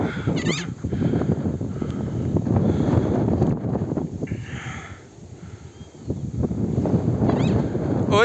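Strong wind buffets and rumbles against the microphone throughout, outdoors during a blue-winged macaw's free flight, with faint bird calls briefly audible through the gusts.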